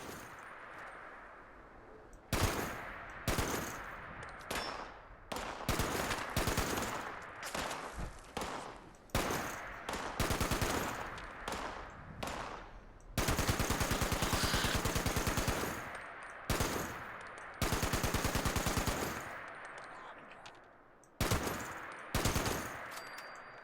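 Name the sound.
gunfire from a heavy weapon in the video game Fallout 76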